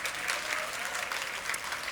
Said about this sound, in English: Let's clap for them for just a second.